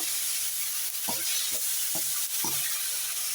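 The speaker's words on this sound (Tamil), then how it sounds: "தக்காளியும் சேர்த்து நல்லா வதக்கணும்" Tomatoes sauté in a pan under a constant sizzling hiss, while a spatula scrapes and stirs in several short, distinct strokes; nobody talks.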